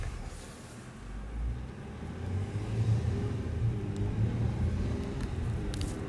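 2016 Honda Pilot Elite driving at about 20 miles an hour toward a barrier, a low steady engine and road rumble that swells gently as it accelerates, heard from inside the cabin without talk.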